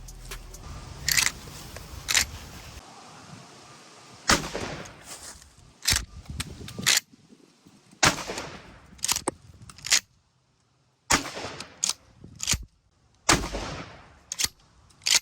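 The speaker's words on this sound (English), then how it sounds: "when you're ready, go ahead and shoot" Shotgun firing Federal slugs at a range, a series of loud, sharp blasts spaced unevenly over several seconds, each cracking out close by with short echoes and quiet gaps between.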